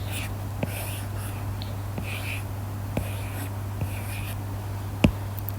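A pen scratches across paper while a Venn diagram for a Class 11 sets lesson is drawn, faint soft strokes in short separate bursts over a steady low electrical hum.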